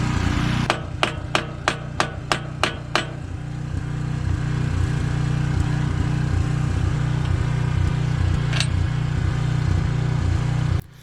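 A portable generator runs steadily under heavy welder load with a low, rhythmic engine drone, while a series of sharp, evenly spaced arc-welding cracks or taps comes early on and a single crack comes later.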